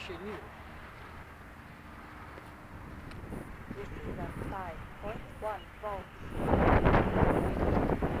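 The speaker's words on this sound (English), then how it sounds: "This is getting a little bit too windy, buddy." Strong wind buffets outdoors at a model aircraft flying field, gusting and roaring louder toward the end, with voices talking over it.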